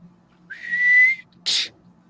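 A person whistles vocally, imitating a whistle heard at night in a neighborhood, with one rising, sustained whistled note followed by a short breathy burst, close and fairly loud over a low hum.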